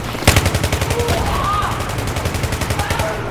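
Rapid automatic gunfire rattles loud and close in the Battlefield 3 video game. One continuous burst of evenly spaced shots is led by a sharper crack, with no voices.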